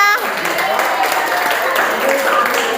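Classroom pupils clap together during a lesson activity, a busy ragged patter of small hands mixed with children's voices and a few high tonal sounds over it.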